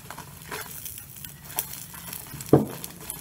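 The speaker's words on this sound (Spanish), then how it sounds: "Una vez que ya se sofrieron los chiles" Twenty guajillo chiles fry in a pan with onion and garlic, a soft continuous sizzle broken by a few light stirring scrapes and one louder clack, close by and with no talking.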